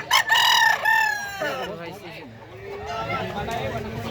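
A rooster crows loudly up close, a long strained call, followed by clucking and people talking in the background.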